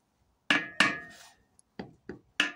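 A small hammer taps a metal cover onto a reassembled electric motor in a home workshop, giving six sharp, close knocks in an uneven rhythm with brief ringing decays and quiet gaps between them.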